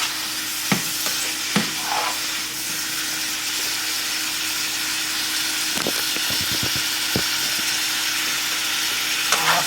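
Peppers and steak sizzle steadily together in a hot pan, a continuous frying hiss with a few sharp clinks and stirring knocks scattered through it.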